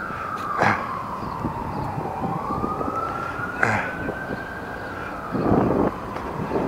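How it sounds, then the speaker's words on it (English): A loud emergency siren wails in a slow rising and falling sweep, heard steadily over traffic noise with a few thumps nearby. "Kind of a loud siren, huh?"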